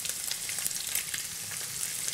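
Quail browning in a hot pan for stewed quail, a steady dense sizzle and crackle of frying, fairly quiet and with no voices.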